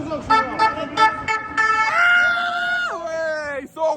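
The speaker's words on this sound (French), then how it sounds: "Je me fais klaxonner" Car horn honking repeatedly in short toots, then a long sustained blast, amid a noisy street festival crowd in Bayonne with people chanting and talking nearby.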